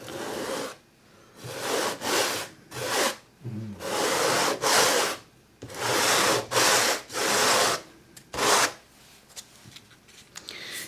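Repeated scratchy rubbing strokes of a sanding block carrying thin acrylic paint over canvas, about a dozen rasping passes with short pauses between, close and steady.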